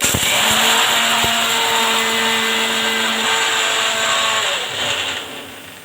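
A mixer grinder grinds roasted peanuts with a loud, harsh, steady whine close by that holds for several seconds, then slows and fades at the end.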